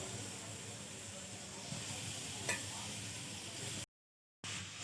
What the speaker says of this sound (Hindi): सारे मसाले डालने के बाद अब हम इसके अंदर मूलियाँ डालेंगे।